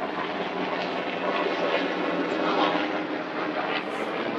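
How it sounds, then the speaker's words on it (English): A helicopter flies overhead, a continuous broadband rotor and engine roar holding steady and fairly loud for several seconds, with no talk. "it's not us, but it's a really cool looking chopper"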